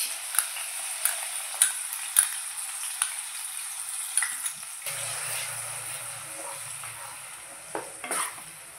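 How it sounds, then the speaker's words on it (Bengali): Onion paste fries in hot oil, a steady quiet sizzle with repeated light taps and scrapes of a stirring utensil against the pan, the hiss growing a little denser partway through. "পেঁয়াজ বাটাটা দিয়ে দিচ্ছি।"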